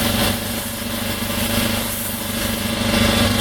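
An air compressor runs steadily in a garage during a car wash, a constant droning motor hum with even mechanical tones and no pauses.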